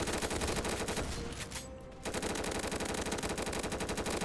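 Rapid continuous machine-gun fire in the Roblox game War Simulator rattles loudly and densely, breaking off briefly midway before resuming at full intensity.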